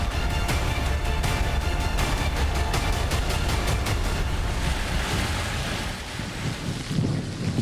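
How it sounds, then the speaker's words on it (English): Strong hurricane winds of Hurricane Harvey, sustained near 50 mph with gusts to 70, buffet the microphone in a loud, constant roar with rough gusting rumble throughout. "Winds now sustained up towards 50 miles per hour, gusting at times 60 to 70 miles per hour."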